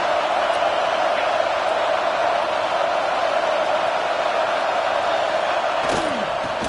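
A stadium crowd in the College Football 26 video game roars steadily and loudly throughout a Tennessee goal-line play, a dense continuous wall of cheering without a break.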